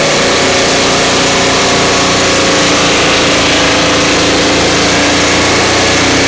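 A Turbosawmill engine held at high RPM while cutting sticky, knotty pine, a loud constant roaring drone that fills the whole clip without letting up.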